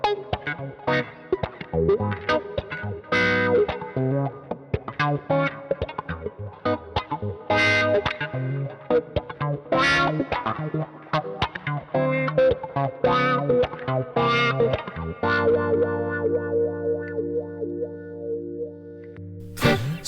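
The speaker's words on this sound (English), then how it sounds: "just to put it in your wah and see if you love the sound" Electric guitar through a wah pedal modded with a Mesa Boogie inductor, distorted and effected, playing choppy riffs with sharp attacks and sweeping tone, ending in a sustained chord before a sudden loud burst, close and prominent with no talk.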